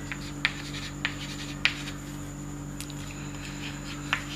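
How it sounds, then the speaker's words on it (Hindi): Writing on a board in a chemistry lesson gives faint scratchy strokes and a few sharp taps over a steady electrical hum, with no talking. "तो पहले तो इनके बारे में लिखता हूँ।"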